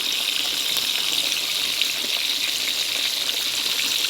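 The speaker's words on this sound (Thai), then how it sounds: "ต้องทอดกรอบแบบนี้พี่น้อง" Fish frying until crispy in hot oil, a loud, steady, close sizzle and crackle holding evenly throughout with no voices.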